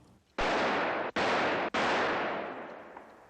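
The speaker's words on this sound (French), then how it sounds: "Il lui tire dessus et s'enfuit." Three sharp, loud gunshot-like blasts in a 1967 film scene where a jealous man fires at another from his car, spaced less than a second apart, each cutting off abruptly, with a long decaying tail after the last.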